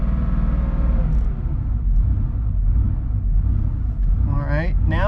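A Porsche 3.2 Carrera engine with an idle surge runs close and loud with a deep, steady rumble, rising slightly as it revs. A voice talks over it near the end.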